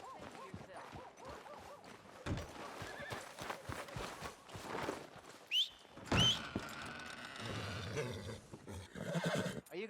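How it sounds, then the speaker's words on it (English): Horse hooves clopping in the video game Red Dead Redemption 2, with a loud neighing whinny partway through, followed by more hoofbeats and some rumbling movement. "Are you gonna mount that new horse of yours or not?"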